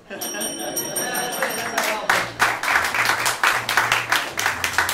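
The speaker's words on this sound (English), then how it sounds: "based on that minimal applause" Light applause from an improv comedy audience, scattered clapping that builds after a couple of seconds and continues at a moderate level with voices underneath.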